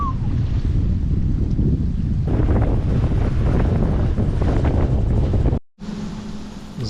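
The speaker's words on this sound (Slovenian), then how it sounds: "Zunaj kar tul okoli teh zajl." Strong wind buffets a sailboat anchored near the Ninigo Islands, Papua New Guinea, in a loud, continuous roar that swells and gusts, cutting out briefly near the end before resuming.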